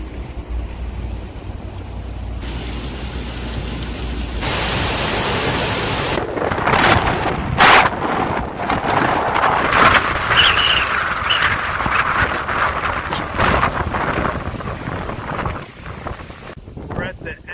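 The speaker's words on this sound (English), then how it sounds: "It's a little windy." Gusty wind from a hurricane's outer band buffets the microphone at a seaside marina overlooking the ocean, loud rushing bursts with rumbling wind noise that rise and fall, sometimes under brief voices.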